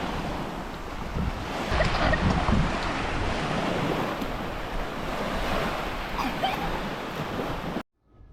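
Ocean waves wash onto a beach in the Philippines, a broad continuous rush of surf mixed with wind buffeting the microphone, steady and fairly loud throughout before cutting off abruptly.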